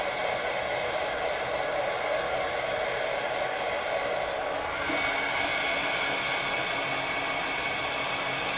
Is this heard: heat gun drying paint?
yes